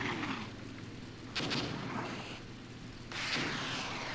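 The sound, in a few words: rockets launching in Armored Brigade video game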